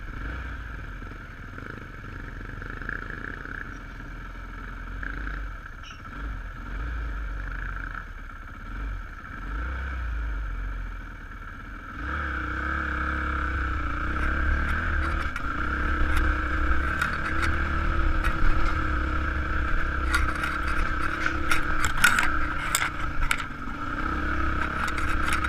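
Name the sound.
Honda CRF 150 dirt bikes riding uphill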